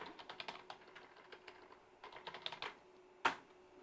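Someone types a password on a computer keyboard while setting up a GL.iNet Comet Pro KVM. The keystrokes come as quick, close, soft clicks in uneven bursts, with one louder tap near the end.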